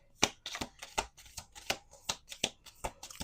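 Deck of tarot cards being shuffled by hand, about a dozen crisp riffling bursts in a quick uneven rhythm, close and clear with no talking.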